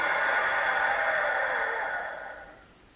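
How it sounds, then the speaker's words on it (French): A long, steady breath blown out through the mouth during a breathing exercise, a soft airy rush that fades toward the end, with no talking. "On va souffler par la bouche en 4 temps et on va resserrer les côtes."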